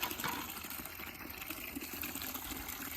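Water runs steadily from a tap or hose while a container fills in an off-grid garden, a continuous broadband gushing that stays fairly even and close throughout.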